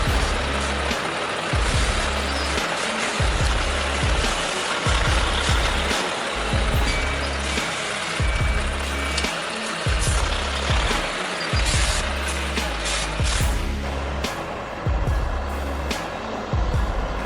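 A 600-horsepower Volvo FH16 truck hauls a heavy Faymanville trailer carrying an Epsilon crane, its engine a steady loud rumble throughout with a continuous low drone and bursts of broadband noise.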